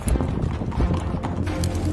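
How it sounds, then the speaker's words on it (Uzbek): Karabair horses carrying skilled riders set out from the Oqsaroy complex in Shahrisabz, their hooves clip-clopping steadily and close, with a light wind in the background and no talking. "Shahrisabz shahrining Oqsaroy majmuasidan mohir chavandozlar Qoraboyir otlarida yo'lga chiqdi"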